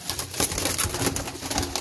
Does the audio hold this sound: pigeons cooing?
yes